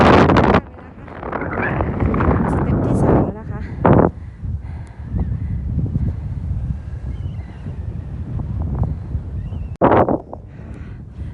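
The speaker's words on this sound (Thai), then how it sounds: "ลมแรงมากเลยค่ะ ขึ้นมาอยู่ยอดเขาแล้วค่ะ" Strong wind on a sand dune summit in Great Sand Dunes National Park, Colorado, buffeting the microphone in steady loud gusts while someone talks over it.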